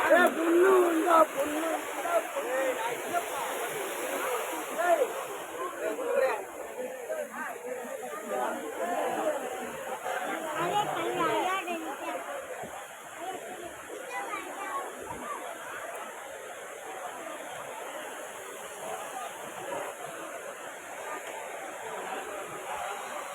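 The waterfall at Courtallam runs with low flow, giving a soft, steady rush of water heard at some distance beneath a continuous babble of people talking nearby.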